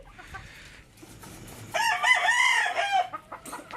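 A fighting rooster crows once, loud and close, a drawn-out call over faint background noise.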